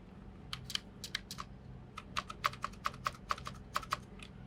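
Computer keyboard arrow keys tapped repeatedly to nudge selected shapes in Adobe Illustrator, a series of crisp, close plastic clicks, some in quick pairs, growing denser toward the end over a quiet background.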